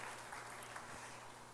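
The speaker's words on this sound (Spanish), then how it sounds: "Le damos un aplauso a nuestro Padre Celestial por esa gracia." A church congregation applauds during a Spanish-language sermon, a faint, steady wash of clapping from many hands heard at a distance with a low hum beneath.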